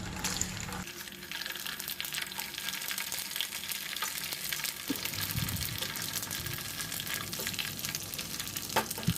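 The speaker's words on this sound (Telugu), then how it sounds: "ఇప్పుడు మీకు కావాల్సినన్ని పిండి వడియాలని హాట్ ఆయిల్లో చక్కగా ఫ్రై చేసుకోవాలి" Flour vadiyalu frying in hot oil, a steady crackling sizzle that grows louder and busier partway through, with faint stirring and no talk.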